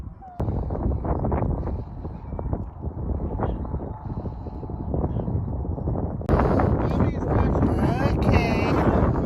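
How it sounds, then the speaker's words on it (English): Cold wind buffets the microphone at the Seven Magic Mountains rock installation, a continuous rough rumble that grows stronger toward the end, heard alongside people talking. "It's cold and windy, really."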